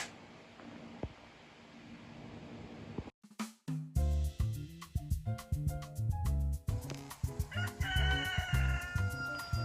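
A real rooster crows once, faint and distant, under a soft background hiss before rhythmic music takes over and fills the rest of the scene.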